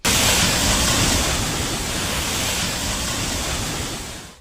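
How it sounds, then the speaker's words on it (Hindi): Floodwater rushes through an overflowing rain drain, a loud, steady, close roar of turbulent water that holds constant throughout, with no voices. "बरसाती नाला पूरे उफान पर था।"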